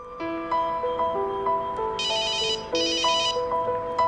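A mobile phone rings inside a sealed test chamber filled with a gas concentration, playing a repeated melodic ringtone with bright chiming bursts, clear and alone for several seconds.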